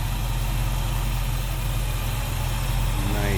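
A 1966 Ford Mustang Convertible's 289 V8 engine idling close by, a steady low rumbling throb that stays even and loud throughout.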